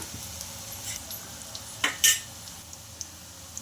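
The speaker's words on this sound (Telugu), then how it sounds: "షాలో ఫ్రై అయితే చేస్తున్నాం తక్కువ ఆయిల్తో ఫ్రై చేసుకుంటున్నాం" Shallow frying in a pan with little oil, a soft low sizzle under a few clinks and scrapes of a utensil turning the food, close and alone.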